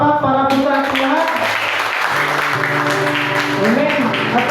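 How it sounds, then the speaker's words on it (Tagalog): A Sunday service congregation bursts into loud applause that fills the room and holds steady, with a voice and musical tones carrying over the clapping. "Isa pong malakas na palakpak para po sa ating lahat."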